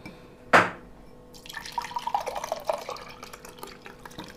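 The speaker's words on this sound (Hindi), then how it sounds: "अब इसे चम्मच से ऐसे मिला करके," A spoon stirs a sattu drink in a glass, beginning with a sharp clink and then continuing as quick, light liquid swirling and tinkling close by with no talk.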